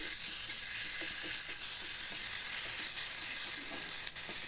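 Onions fry with ginger-garlic paste in a pan, holding a steady, dense sizzle from start to finish, with faint stirring scrapes mixed in. No voices.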